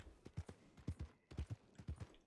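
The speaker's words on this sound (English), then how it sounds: "you're like making my horse walk with your horse" Horse hooves walking at a steady clip-clop in a video game, a rhythmic series of soft low thuds in pairs, fairly close and moderately quiet with no talk over them.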